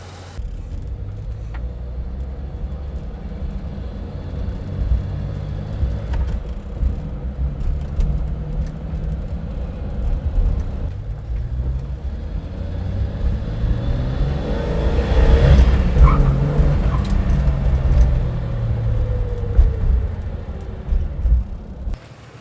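A 1991 Jeep Cherokee XJ engine idles steadily while warming up, a continuous low rumble that swells a little louder near the middle, with no talking over it.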